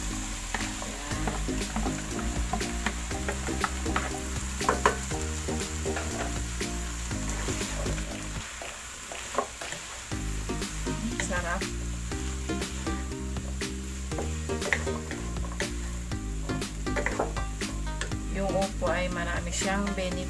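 Chopped bottle gourd (upo) sizzles steadily in a hot pan while being sautéed, a dense, continuous frying hiss with scattered clinks of a utensil and a voice talking over the cooking.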